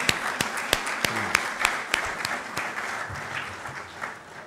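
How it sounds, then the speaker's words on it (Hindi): A ceremony audience claps for singers who have just performed national songs, starting with sharp, distinct claps that merge into softer, scattered applause as it fades. "एक भरपूर ताली ज़ोर से"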